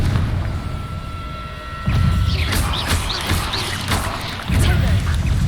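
The Confringo fire-blast spell from the video game Hogwarts Legacy booms loudly, with a couple of heavy explosive bursts over busy combat effects and noise.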